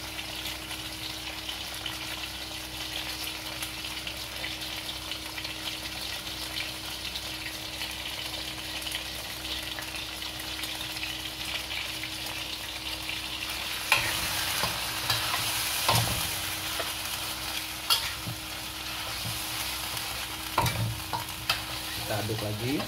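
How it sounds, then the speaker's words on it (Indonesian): Squid in oyster sauce being stirred in a pan, a steady hiss of frying with scraping utensil strokes that grow more frequent and clattery in the second half, close and fairly loud, no talk. "Kita aduk lagi."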